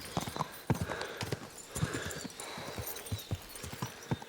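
Horse hooves clip-clop in a brisk, steady rhythm in the video game Kingdom Come Deliverance 2, with no talk over them.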